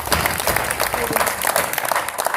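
Audience applause at a Hindi poetry recital (kavi sammelan): a dense, steady wash of many hands clapping close by, sustained without a break for a couple of seconds.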